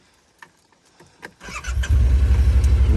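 A Yamaha Wolverine side-by-side cranks after a few faint clicks and knocks, catches with a rising burst, then settles into a loud, steady, pulsing idle close by.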